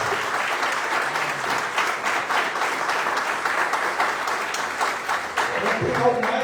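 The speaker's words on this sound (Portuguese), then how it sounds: "aplaudir o Senhor." Church congregation applauding during a celebration service: sustained, dense clapping from many people, even and fairly loud, with some voices and a low rumble near the end.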